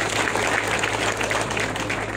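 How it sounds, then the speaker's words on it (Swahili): Audience clapping for a director named Fred at a Kikuyu-language memorial or community gathering, a steady dense patter of hands held at an even level throughout with no pauses. "makofi mega"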